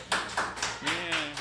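At a cemetery talk at the Elgin Fringe Festival, a photographer claps in a handful of sharp, spaced hand claps, close by, while people talk over them.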